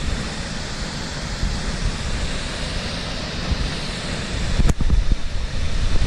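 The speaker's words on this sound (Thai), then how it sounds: "น้ำตกวังจระเข้ครับผมสวย" The Wang Jarakhe waterfall roars as a steady broadband rush of falling water, constant and fairly loud, with a louder surge near the end.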